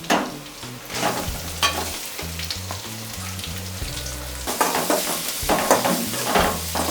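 Onions frying in a hot tempering for Maharashtra-style vada pav, a steady close sizzle with stirring scrapes of a spoon against the pan, while background music plays throughout.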